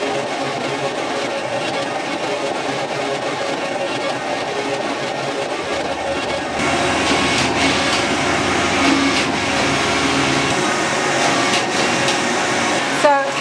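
Industrial knitting machine knitting a whole jumper, body and both sleeves in one pass, giving a continuous mechanical whir and rattle that grows louder partway through, with faint talk in the background.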